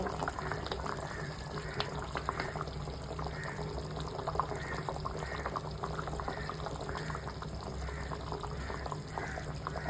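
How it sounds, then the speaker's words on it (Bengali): Starch water drains off a pot of cooked rice as a steady, fairly quiet pour of liquid with a soft, rhythmic gurgle throughout, heard close with faint kitchen background and no talking. "ভাতও হয়ে গেছে এবার আমি ভাতটাকে গড় দিয়ে নেব"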